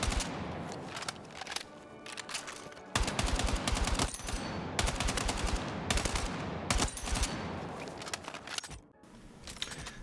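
Continuous automatic gunfire from a rifle fitted with a vertical grip in the video game Battlefield 6, dense rapid bursts broken by brief pauses, loud and close.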